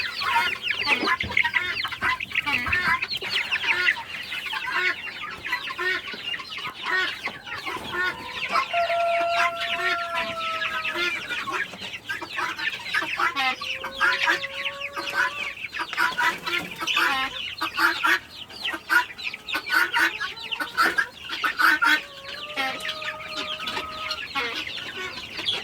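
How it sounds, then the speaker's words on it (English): A large backyard flock of chickens, including bantams, clucks and calls continuously at close range, with several drawn-out squawks and crow-like cries rising over the busy chatter. "Come on, chickens."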